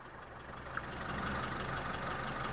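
A Vauxhall Corsa engine just started and idling, a steady low hum with a faint click near the start, close and quiet, no talking.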